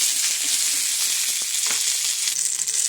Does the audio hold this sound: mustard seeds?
yes